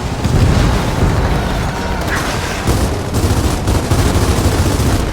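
Dense, loud gunfire and heavy booming explosions in the Gears of War 4 prologue courtyard battle, a continuous barrage of overlapping blasts and shots with no speech.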